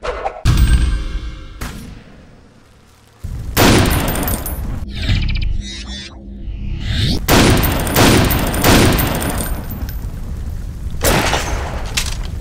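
Heavy shotgun blasts from a Codemasters first-person shooter, several loud booming shots spaced a second or so apart, each with a sharp onset and a rumbling tail, mixed with game effects.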